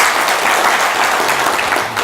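Steady, dense clapping from a crowd fills the whole stretch, loud and continuous without a break.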